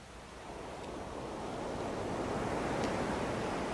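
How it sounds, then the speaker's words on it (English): Ocean surf rolls in and recedes, a soft, steady wash of breaking waves that swells gradually louder, heard alone without voices. "You can hear the sound of the surf as the waves ebb and flow."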